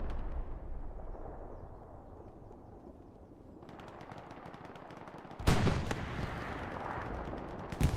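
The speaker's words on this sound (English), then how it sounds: "Satchel, proxy satchel going off on the cemetery." A satchel charge detonates on a cemetery in the WWII shooter Hell Let Loose, a loud blast landing after distant rumbling, followed by sharp bursts of gunfire and a second late crack.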